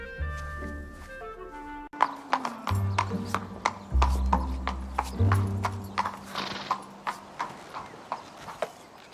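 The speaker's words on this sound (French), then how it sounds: "Moi, je crains les chevaux, ils me terrifient." Horse hooves clip-clop in a steady, fairly loud rhythm across the whole stretch. Mechanical clicking and rattling sounds mix in near the start, and there is no talking over it.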